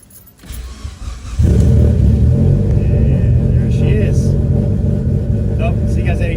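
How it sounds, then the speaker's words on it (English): A V8 car engine (E85-fuelled, boosted) cold-starts close by: a brief crank and then a loud, steady, rumbling fast idle that holds to the end, with no talk over it. "So get you a little cold start for the boys"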